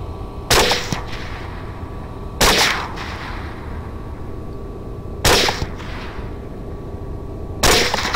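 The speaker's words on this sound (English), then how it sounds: "So my shots are not going to be leaving the property" Four loud rifle gunshots fired at wild hogs in a winter wheat field, each a sharp crack with a trailing echo, spaced a couple of seconds apart with quiet outdoor ambience between.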